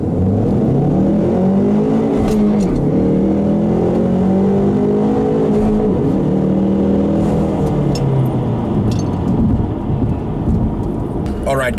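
A manual Ford Mustang EcoBoost in track mode with traction control off launches hard from first gear, its engine roaring loud and close as revs climb through rising, sweeping pitches before easing.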